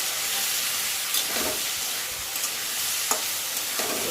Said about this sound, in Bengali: তো বেশ কিছুক্ষণ এরকম নাড়াচাড়া করে ভাজা ভাজা করে নিচ্ছি।